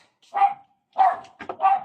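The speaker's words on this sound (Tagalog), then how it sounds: "Maingay mga aso." A dog barks three times nearby, sharp separate barks with short gaps between them.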